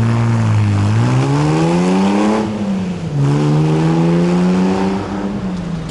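A Lamborghini Countach engine revs loudly and close by on a city street in Cannes, its pitch rising, dipping and climbing again in sweeping surges with no voices over it.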